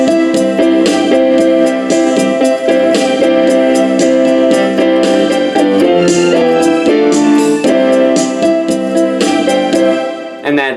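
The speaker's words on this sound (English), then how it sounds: "And I'm going to be playing the chords with it with background instruments." Keyboard chords played over an accompanying beat and background instrument sounds, a full sustained arrangement that runs steadily and loud, with no one speaking.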